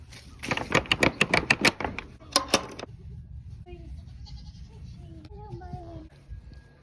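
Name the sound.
goat bleating on a farm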